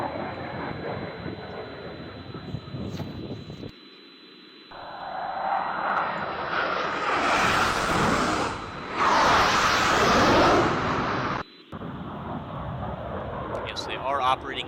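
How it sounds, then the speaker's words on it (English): Military jets make very low flybys, arriving as a loud broad roar that swells twice between stretches of talk, with a short cutoff between passes. The jets fly in pairs. "those jets doing really low flybys there, probably to avoid radar and anti-air defense"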